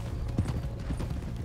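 Horse hooves clip-clopping in the video game Red Dead Redemption 2, a soft, steady run of hoofbeats over a dense low background, fairly faint and with no one talking.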